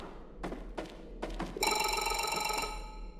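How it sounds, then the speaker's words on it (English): A telephone rings in a first-person video game set aboard a drilling vessel. A few dull knocks come first, then a bright, sustained electronic ring holds for about a second over low ambient hum. "Okay, answer the phone."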